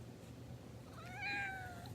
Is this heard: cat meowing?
yes